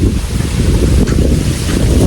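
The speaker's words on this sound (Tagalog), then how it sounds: "sobrang lakas ng hangin" Strong wind buffets the microphone on a beach, a steady loud roar mixed with surf and rushing air, with no talk.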